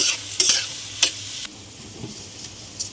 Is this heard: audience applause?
no